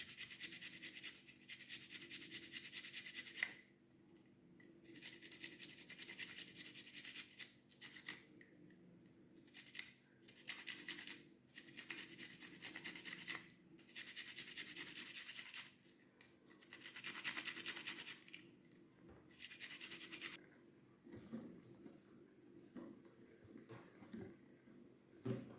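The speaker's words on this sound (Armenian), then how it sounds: "Հիմա սխտորը քերում եմ ջրի մեջ։" Garlic is grated into water for pickle brine, giving repeated rasping, scraping strokes in short bursts with brief pauses between them. The sound is close and fairly quiet, with no talking.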